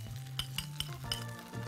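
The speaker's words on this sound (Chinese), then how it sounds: "發啲蛋啦" Eggs beaten with a fork in a bowl for a Korean-style pancake, a few quick metallic clinks tapping out against a steady background sizzle of batter frying in a pan.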